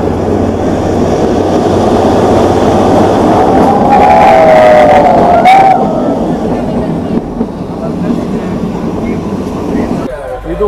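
Shimla toy train engine hauling coaches up a steep climb, a loud continuous rumble and clatter of wheels and motor from on board, with a brief squeal midway, steady throughout and fading slightly near the end.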